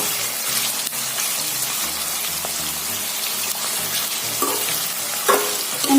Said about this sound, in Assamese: নৰম হোৱালৈকে ভাজিব লাগিব আৰু কালাৰটো গোল্ডেন কালাৰ হ'ব